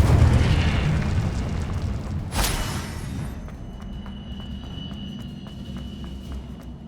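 A single loud whooshing burst of the Incendio fire spell in the video game Hogwarts Legacy flares up, then fades into a steady low rumble of background game ambience.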